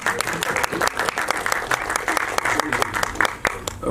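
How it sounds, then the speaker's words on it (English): A room of people at a film press conference breaks into dense, sustained clapping, fast and even, close and loud without letup. "Can we give a huge round of applause"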